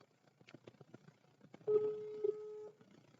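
A telephone call tone sounds while dialing, a steady ringback-style tone lasting about a second and starting after a stretch of faint clicks and low background murmur.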